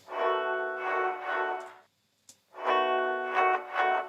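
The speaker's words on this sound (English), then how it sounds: "Now, if we take a listen to this reverse reverb" Reverse reverb swells on an effected instrument in a mixing demonstration, two thick, loud washes of sound separated by a short gap and a brief click, each rising into the note.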